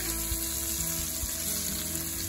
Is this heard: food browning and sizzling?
yes